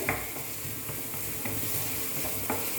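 Onion sautéing in hot oil in a pan while making a paneer chapati sandwich, a steady close sizzle with occasional soft stirring scrapes and no speech.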